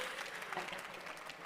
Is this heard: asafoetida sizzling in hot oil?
no